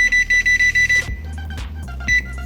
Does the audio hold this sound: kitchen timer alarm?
yes